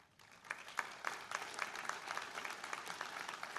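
A commencement audience breaks into applause that builds quickly to a steady, fairly distant patter of many hands clapping.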